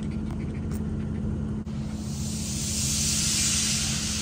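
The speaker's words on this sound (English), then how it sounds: "That's a steam train, Ozzy." A steam train passing near a dog-walking field in Great Amwell lets out a rising, broad hiss of steam that builds over a steady low rumble and grows loud toward the end.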